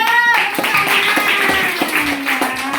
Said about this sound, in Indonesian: tepuk tangan dulu buat Angel